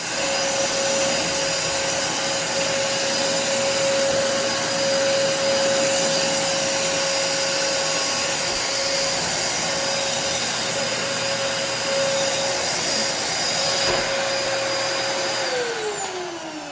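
A Dyson DC27 upright vacuum cleaner runs steadily close by along hard floor edges and baseboards, a loud continuous whoosh with a sustained motor whine that drops in pitch near the end as the motor slows.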